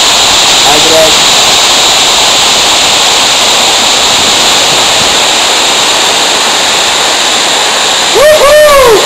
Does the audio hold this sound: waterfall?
yes